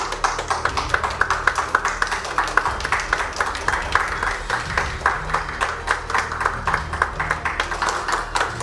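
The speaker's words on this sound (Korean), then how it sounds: "따뜻한 박수 부탁드리겠습니다." A ceremony audience for the 10th Information Protection Day applauds steadily throughout, with many hands clapping in a dense, even patter that stays at a constant level.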